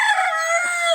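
A peacock-feathered rooster brought home from the market crows once up close, a loud drawn-out call that fills the whole moment with nothing else around it.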